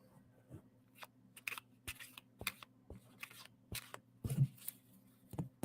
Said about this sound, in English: here's a regular deck. I'm going to shuffle them up